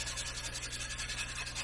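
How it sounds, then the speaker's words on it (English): A sandpaper stick rubs back and forth inside a model rocket body tube, giving a steady, close, continuous scratchy rasp with a regular rhythm and no voices. "my handy dandy glue application stick that also has sandpaper, so if I want to rough it up inside there"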